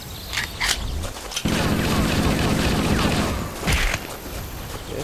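Bursts of gunfire in Halo CE multiplayer: a few sharp shots, then a sustained rattling volley, then another short burst, loud and continuous under the game's noise.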